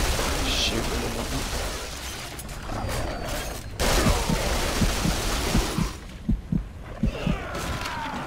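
Gunfire while shooting enemies in the video game Duke Nukem Forever, a run of rhythmic heavy shots and thuds over loud game ambience.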